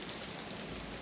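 Light drizzle falls steadily while a rider is out on country roads among oak trees near Broadwell and Adlestrop, a soft continuous broadband patter with no distinct drops standing out.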